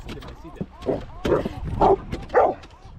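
A dog gives a run of short, excited barks and yips close by, several in quick succession, with people talking over them.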